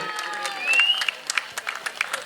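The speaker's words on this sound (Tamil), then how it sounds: "அனைவரும் கைதட்டி உற்சாகப்படுத்துங்கப்பா" A crowd clapping and cheering at a village kabaddi tournament match, bursts of applause rising after a shrill whistle-like tone, with a voice over a loudspeaker.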